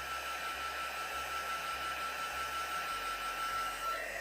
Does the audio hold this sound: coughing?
no